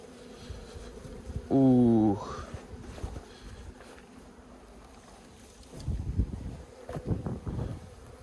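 Many honeybees buzz steadily around an open beehive, a continuous close hum throughout, with a short tonal vocal-like burst early on and some handling noise near the end.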